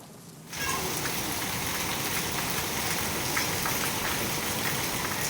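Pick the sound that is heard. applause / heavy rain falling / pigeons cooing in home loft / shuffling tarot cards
heavy rain falling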